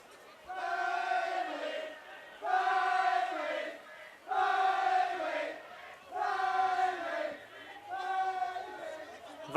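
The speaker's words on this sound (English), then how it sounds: "Vocal crowd." Vocal supporters at a football grand final chant and cheer in loud, rhythmic bursts, several rising and falling waves of massed voices.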